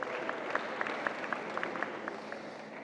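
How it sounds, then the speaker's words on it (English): A live youth forum audience applauds two string performers: steady, fairly faint clapping from a crowd at a distance, with individual claps standing out now and then. "A round of applause for our two strings performers."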